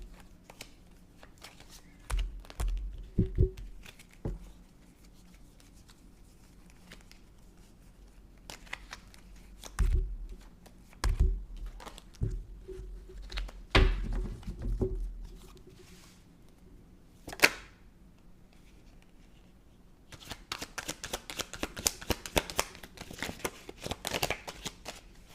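Tarot cards are shuffled during a card reading, with repeated riffling bursts and soft slaps spread across the clip, followed by a longer, denser flurry of shuffling near the end.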